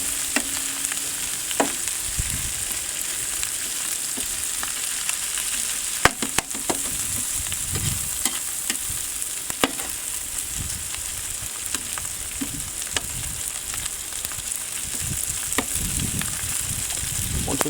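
Chinese five spice duck Cajun fried rice is stir-fried in a hot pan, giving a constant loud sizzle with repeated scraping and clattering of the spatula as everything is tossed and mixed together.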